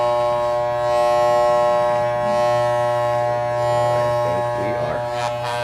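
Electric clippers buzz steadily while shaving the side of a head, a loud close drone with a sharp tonal whine, shifting slightly as the blades move through hair near the end.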